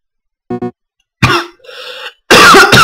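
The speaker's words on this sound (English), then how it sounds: "Man, I hate my cough." A person gives a few harsh coughs at close range, loud and raspy, with short throat-clearing bursts between them.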